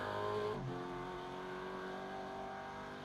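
Race car engines from V8 supercars and GT3 cars in the iRacing sim, a steady high-revving drone with layered engine harmonics and a brief pitch drop early on, loud and continuous with no talk.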